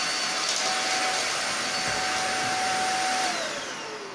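A PUPPYOO WP521 vacuum cleaner running with a steady, fairly quiet whirring hum and a thin whine that drops slightly in pitch near the end, with no talk.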